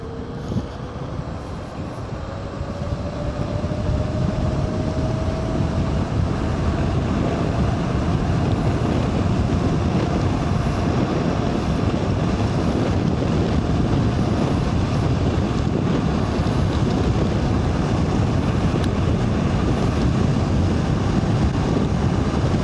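A KuKirin G4 60V 2000W electric scooter ridden at high speed in race mode, a loud steady rush of wind and road roar with a faint rising motor whine early on.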